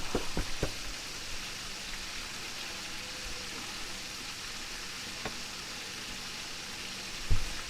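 Chicken wings deep-frying in a large batch of hot oil at about 350 degrees, a steady, even sizzle and crackle with a few sharper pops and a louder burst near the end.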